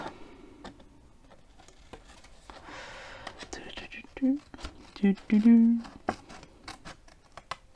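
Scissors snip through card for a pop-up hydrangea accordion scrapbook page, giving a series of quick crisp clicks and cuts near the mic, with soft whispering and quiet speech around them.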